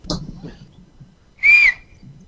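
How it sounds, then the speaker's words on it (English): A person on a horse farm gives a loud, piercing whistle lasting about a quarter second, a single sustained tone that stands out sharply, with talk and outdoor noise before and after. "My sister can really whistle."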